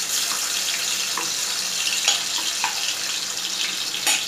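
Garlic dropped into a little hot oil in a wok sizzles and hisses steadily, a close, bright frying sound with a few soft clicks, running alone without talk.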